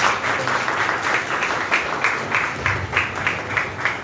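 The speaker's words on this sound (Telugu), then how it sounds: "అందరం చప్పట్లు కొడదాం" Audience at a retirement function clapping together, a moderately loud burst with a loosely rhythmic, pulsing quality that holds steady to the end.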